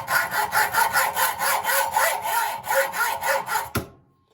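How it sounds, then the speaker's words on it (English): A hacksaw cutting through metal in steady back-and-forth strokes, about a dozen rhythmic rasping passes, close and loud, ending abruptly with a clunk. "So we're going to try to cut it with a hacksaw and see if we can make any headway"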